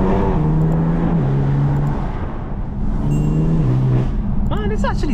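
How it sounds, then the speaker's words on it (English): A 580bhp BMW M3 on a night drive, its exhaust and front intake droning loudly and steadily from inside the car, rising and falling slightly in pitch with the revs. "That exhaust tone combined with the intake up front."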